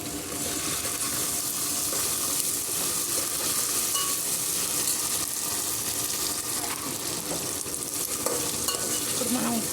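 Ginger garlic paste frying in a pan for bagara rice, giving a steady, dense sizzle that holds at an even level throughout without a break, with no talking.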